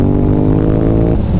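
Honda RC51 2004 Nicky Hayden Edition sport bike pulling away under a light throttle opening, its engine note loud and close with steady rising harmonics and a brief dip near the end, no voices.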